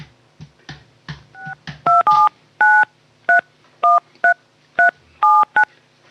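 A telephone number is dialed with a run of about ten sharp, evenly spaced touch-tone beeps, loud and close, following a few soft handling clicks, with no voices.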